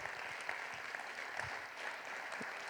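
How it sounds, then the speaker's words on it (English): An audience applauds at a TEDx salon event, a steady patter of many hands clapping from a distance, fairly faint. "Give him a nice round of applause."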